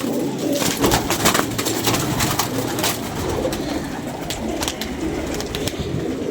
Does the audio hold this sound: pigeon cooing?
yes